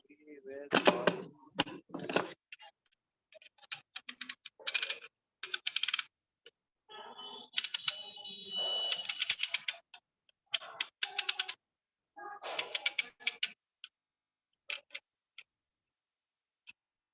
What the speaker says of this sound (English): What is that clicking sound?